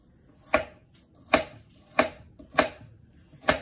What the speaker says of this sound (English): Reeve is cutting the apple up